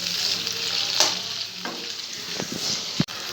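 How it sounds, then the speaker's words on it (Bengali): Capsicum and onion fry together in a pan with a steady close sizzle, broken by a few brief clinks and stirring scrapes. "তো ক্যাপসিকাম আর পেঁয়াজটা একটুখানি ভাজা ভাজা হয়ে এসছে"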